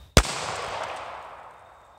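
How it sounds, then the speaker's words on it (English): A single sharp .45 ACP pistol shot fired at a row of sporting clays outdoors, a loud abrupt crack followed by a long fading echo, with no talk. "we decided to give the 45 ACP another shot and took aim again"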